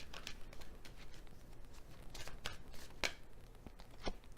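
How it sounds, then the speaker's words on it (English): Tarot cards are shuffled by hand during a reading, giving faint, close, papery riffles and soft taps in irregular bursts, with no talk. "So I'll shuffle again and see which one comes out."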